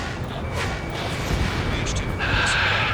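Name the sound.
anti-aircraft fire in Ace Combat 7 video game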